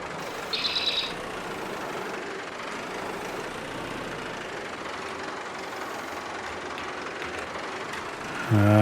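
A sprayer vehicle's engine idles in Farming Simulator, a steady low rumble that holds throughout, with a brief high beep near the start and a louder tonal sound arriving at the very end.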